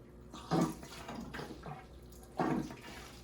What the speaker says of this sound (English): now I can fill up this tank with just water from the main tank